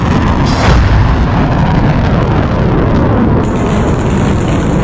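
A cluster bomb dropped from a fighter jet detonates in a loud, sustained rumbling roar of blasts that fills the whole stretch, dense and booming without pause or speech.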